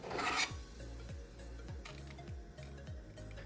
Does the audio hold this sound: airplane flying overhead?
no